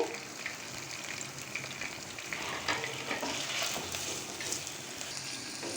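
Chopped onion, garlic, ginger and small cardamom pods fry in oil in a pan, giving a soft, continuous sizzle with light stirring scrapes. The cooking is fairly quiet and steady, with no voices over it.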